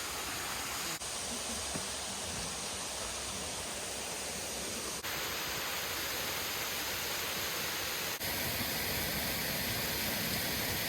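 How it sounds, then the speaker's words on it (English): A pretty waterfall and creek in Olympic National Park, heard as a steady, full broadband rush of falling water that fills the whole stretch without pause, loud and close, with no voices over it. "this is a pretty waterfall, and it was actually better than I was expecting"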